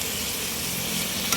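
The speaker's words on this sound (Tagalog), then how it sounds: "Kailangan gisahin natin na mabuti." Food sautéing in a hot pan, fish with salt and plenty of ginger, a steady close sizzle with no break across the short moment.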